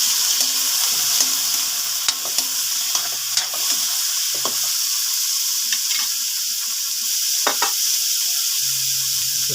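Shrimp sizzle in a hot pan with sautéed onion for Filipino hipon na gisado, a steady close frying hiss broken by irregular clicks and scrapes of stirring, with no talking.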